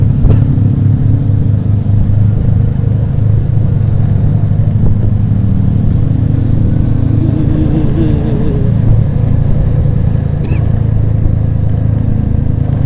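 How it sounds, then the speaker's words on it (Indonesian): Motorcycle with a hollowed-out, loud exhaust riding along, a steady deep throbbing rumble that stays close and loud throughout, with slight swells in engine pitch. "motor bobokan ini"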